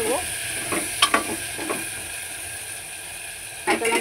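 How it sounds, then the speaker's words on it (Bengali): Potatoes fry in a pan for khichdi with a steady background sizzle. Intermittent spatula scrapes and clanks against the pan sound close by. "এবার দিয়ে দিলাম আলু, দিয়ে একটুখানি ভেজে নেব।"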